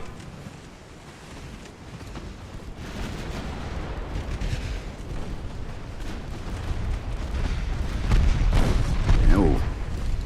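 Naval shells strike a ship in Ultimate Admiral: Dreadnoughts, an 1890-era battle, as a series of dull booming impacts in a steady rumble that grows louder toward the end, with a burst of heavier hits near the close.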